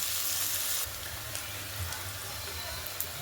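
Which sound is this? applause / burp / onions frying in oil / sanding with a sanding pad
onions frying in oil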